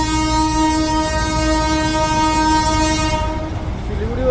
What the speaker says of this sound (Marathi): सिलिगुडीवरून दार्जिलिंगला येणारी शेवटची ट्रेन होती.